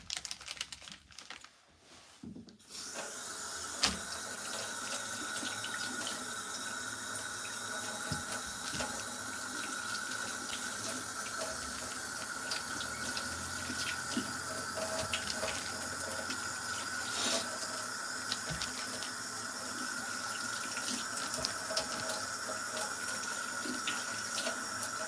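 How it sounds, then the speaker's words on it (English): Tap water runs steadily into a kitchen sink while cucumbers and other vegetables are rinsed, a continuous close hiss with small splashes and clatters throughout, starting after a brief quiet moment. "we're gonna go back over to the sink really quick as I give all this stuff a quick wash"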